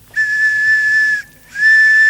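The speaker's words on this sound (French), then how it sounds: "pour répondre par oui, tu donneras un coup de sifflet" Two loud, shrill blasts on a whistle, a long steady one and then a second after a brief gap, close and alone, on a French evening game show.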